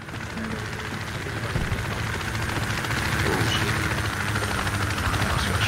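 A helicopter lands in the Project Reality military game, its steady, dense rotor and engine roar holding loud and constant throughout with no talk over it.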